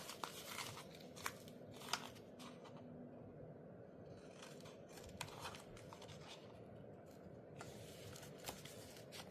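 Scissors snip out paper sentiments for a handmade shaker card, giving a run of soft, close crunching cuts with a few sharper snips. No one speaks over them.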